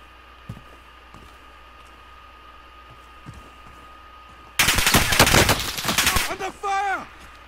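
Rapid automatic gunfire in Call of Duty Warzone erupts in a loud, dense burst of shots after a quiet stretch, then trails off into a few whooshing effects.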